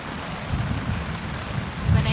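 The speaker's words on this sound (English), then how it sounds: "And thundering. You can hear the thunder." Steady rain falls at a campsite during a thunderstorm, a continuous hiss with low rumbling thunder rolling beneath it and swelling slightly near the end.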